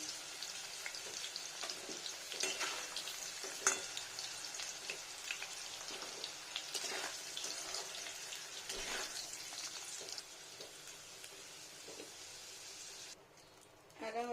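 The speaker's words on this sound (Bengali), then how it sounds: "ওই তেলটাতে আমি আলুগুলো ভেজে নিচ্ছি" Potatoes frying in oil for a vegetarian paneer curry, a steady crackling sizzle with scattered pops, dropping quieter near the end, with occasional talk over it.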